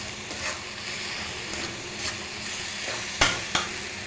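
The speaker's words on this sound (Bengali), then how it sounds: "মাংসের টুকরাগুলো দিয়ে দিয়েছি, এটা একটু ভাজা ভাজা করব।" Chicken pieces and lentils fry with a steady sizzle in a pan, with soft stirring and a couple of sharp utensil knocks near the end.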